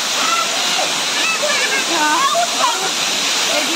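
A waterfall roars in a steady, broadband rush of falling water, loud and continuous throughout, while people talk over it.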